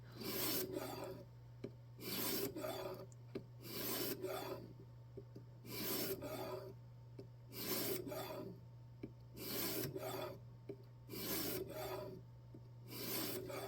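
Steady back-and-forth rasping of a knife blade drawn across a sharpening stone on a guided jig, in regular strokes roughly every second and a half, close and clear over a constant low hum.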